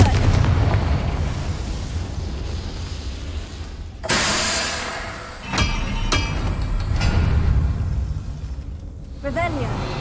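Fiery blasts from the Confringo spell in Hogwarts Legacy, a loud booming burst followed by a couple of sharp cracks and a later smaller pop, all set in a dense, rumbling game soundscape with a voice speaking.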